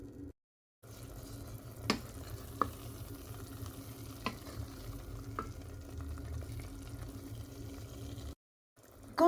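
A pepper paste cooking over medium heat in oil in a saucepan, with a quiet continuous bubbling sizzle and a few light utensil taps, close and fairly faint, with brief silent gaps at the start and end.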